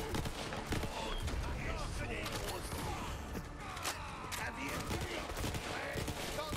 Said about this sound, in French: Je sais pas si c'est du tir allié.